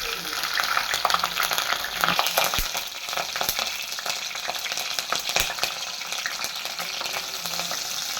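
Green chillies sizzle and crackle steadily in hot oil in a pan as a Kerala-style karimeen fish curry gets started, with no talking over the close, continuous frying.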